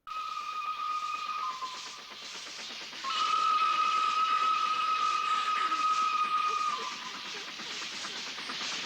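A train in a film scene sounds a long steady steam whistle over the rumble and rhythmic clatter of rolling wheels. The whistle dips briefly, then comes back louder and sustained before fading under the continuing train noise.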